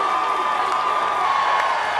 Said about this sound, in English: Look at the crowd. They're getting excited.